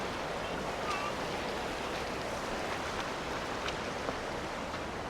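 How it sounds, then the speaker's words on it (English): Clear water in a creek near Ketchikan, Alaska flows in a steady, faint broadband rush, continuous and unbroken with no voices. "This creek looks awesome."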